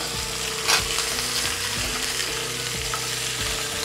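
Golden trevally fries in a hot pan as it is flipped, giving a steady dense sizzle with a brief scrape or bump near the start and faint low clatter underneath.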